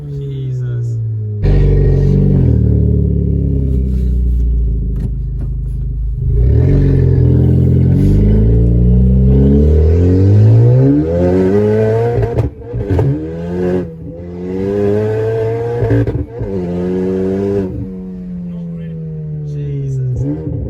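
Exhaust of a Honda Civic Type R FK8 and Civic Si FC1 with open front pipes, revving loudly and rising through the gears, close and continuous with a raspy drone, with brief breaks where people speak.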